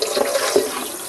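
Running tap water rinsing salt out of a raw turkey in a kitchen sink, a brief close splashing gush.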